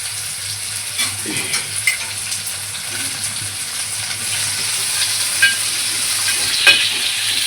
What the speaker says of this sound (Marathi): इकडे आपला कांदा पण भाजून घेऊया